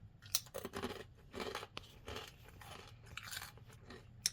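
Crisp crunching as someone bites and chews organic chili lime rolled tortilla chips, a close, irregular string of sharp crackling bites and munches, quiet overall with no talking.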